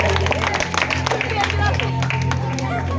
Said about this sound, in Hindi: इनके लिए भी एक बार ताली होना चाहिए।